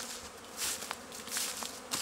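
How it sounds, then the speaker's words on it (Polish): Honey bees buzz close by at an apiary hive in a dense, wavering drone, with individual insects swelling louder as they pass near. "Te pszczoły naprawdę, patrzcie, tutaj znowu."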